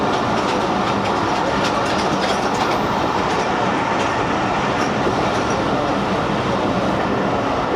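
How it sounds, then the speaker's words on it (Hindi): Freight train on a loop line at Qila Sattar Shah station in Pakistan, with a GU40 locomotive, rumbling and clattering steadily and loudly throughout, wheels clacking over rail joints close by. "ये किला सत्तार शाह की लूप लाइन पे एक माल गाड़ी मौजूद है।"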